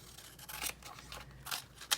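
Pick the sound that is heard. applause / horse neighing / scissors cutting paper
scissors cutting paper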